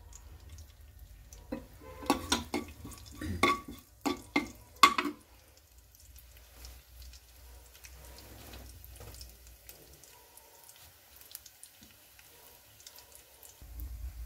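Cumin seeds dropped into two spoons of hot oil give off a cluster of sharp crackles and pops early on, then settle to a faint, sparse sizzle with a low hum behind it.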